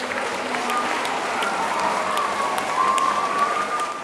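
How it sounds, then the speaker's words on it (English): An audience at a school assembly claps to welcome a new staff member, a steady, even wash of applause that holds at the same level from start to end. "Give everybody a round of applause."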